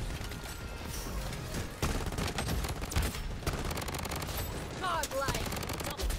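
Gunfire in the shooter game Bloodstrike arrives as loud, rapid machine-gun bursts with sharp onsets, over a layer of dense battle noise and mechanical clatter.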